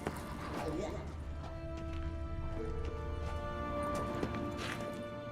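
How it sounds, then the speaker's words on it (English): Faint, steady clopping of horse hooves in The Witcher 3 runs under sustained game music and background ambience, with no break for the whole stretch. "Another horse. Almost exactly like the last one."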